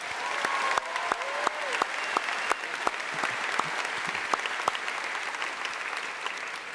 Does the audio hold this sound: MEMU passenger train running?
no